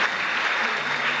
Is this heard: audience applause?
yes